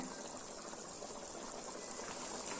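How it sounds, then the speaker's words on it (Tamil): Egg curry gravy bubbles and simmers steadily in a pot, a soft continuous hiss of boiling with no pauses. "குழம்பு நல்லா கொதிக்குதுங்க"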